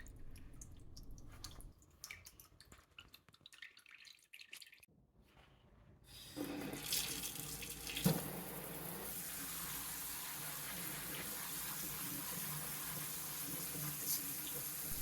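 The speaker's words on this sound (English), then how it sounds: "And then what I'm going to do is I'm going to give it a good rinse." Seeds are rinsed under a running kitchen tap: after a few quiet drips and handling sounds, a steady rushing stream of water starts and continues, close and constant.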